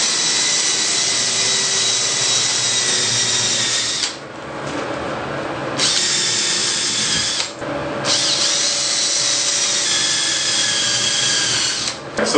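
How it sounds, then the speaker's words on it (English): A power drill bores hinge holes through onyx shower panels for a door mount, a loud continuous whining drone broken by two brief pauses before it resumes. "then drill the holes and then mount the door"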